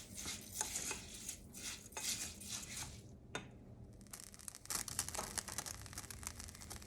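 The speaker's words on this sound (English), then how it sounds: "I'm just gonna give it a toss and just kind of fry it up" Rice grains rattle and scrape in a dry pan with no oil as they are tossed and stirred, with a brief pause before the shuffling resumes, close by.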